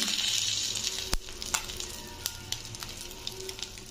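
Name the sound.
cumin seeds sizzling in hot oil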